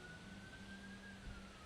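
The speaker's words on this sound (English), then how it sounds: "that ambulance or whatever that is over there is making a bunch of noise" A distant ambulance siren wails faintly and steadily outdoors, a thin sustained tone drifting slightly in pitch over low background rumble, with no talk over it.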